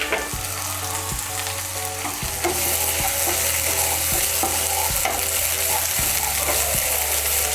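Ginger, garlic and green chili paste sizzling hard in a pan as it is stirred, a dense, loud continuous fry with repeated scraping strokes, and music playing underneath.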